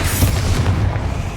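A fire spell explosion in Hogwarts Legacy gameplay bursts in a deep, rumbling boom that fills the short moment, loud and close with a rolling low roar.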